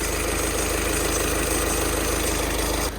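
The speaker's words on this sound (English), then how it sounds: "You got to listen to the car, you got to see if it's idling rough or not." Car engine idling rough and shaky, a steady low mechanical rumble with an uneven, knocking pulse, close and continuous before cutting off near the end.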